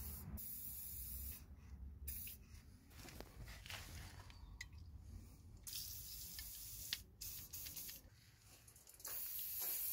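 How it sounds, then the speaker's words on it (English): WD-40 aerosol sprayed onto the nuts and bolts of a Nissan Note's lower suspension control arm mounts, in repeated hissing bursts of varying length with brief pauses between, close and steady. "That's WD-40 being applied on all 3"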